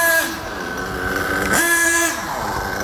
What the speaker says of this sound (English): Listen to the engine, very low, kind of labored idle